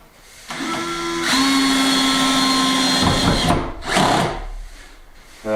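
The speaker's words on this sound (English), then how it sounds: "So now I'm just going to stick the rest of the screws in" Power driver whining as it sinks screws into timber during an old hay loft restoration, a steady motor drone rising in pitch for about three seconds, then a shorter burst, close and loud with no talk.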